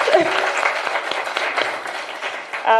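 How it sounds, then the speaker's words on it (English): An audience at a women's breakfast meeting claps in a dense, steady burst of applause that stays fairly loud for the whole few seconds and ends with a brief tonal sound. "Maybe we can give them a round of applause."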